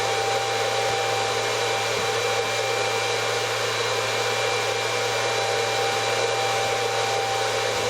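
A GU5B vacuum tube Tesla coil running at high voltage gives a steady, unbroken hum and hiss with a low buzzing tone underneath, constant and fairly loud throughout, with no voices.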